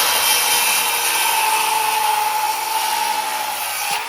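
Power saw cutting through a deck board for a ground-level deck, a continuous steady high whine with grinding texture lasting throughout and easing slightly at the end.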